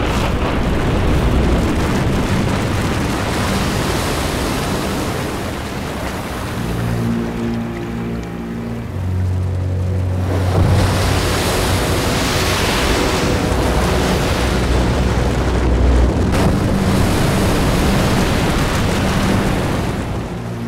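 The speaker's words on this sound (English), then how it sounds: "Icefall creates a rolling wave up to 10 metres high." Glacier ice falls into the ocean, sending up a rolling wave: a loud, sustained roar and rumble of surging water with deep booming swells, continuous and alone.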